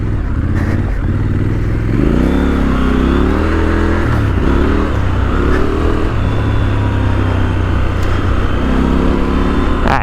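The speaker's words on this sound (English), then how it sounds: "Let's see about getting the bike a little sideways here on brakes." A Triumph Scrambler 1200XE motorcycle ridden hard and braked into a slide, its engine loud and close with continuous rumble rising and falling as revs change, plus wind and mechanical clatter.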